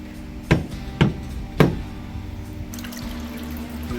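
A steel pipe goes into a water bath mixed with baking soda, giving three sharp metallic knocks about half a second apart, then a soft watery sloshing and swishing close by.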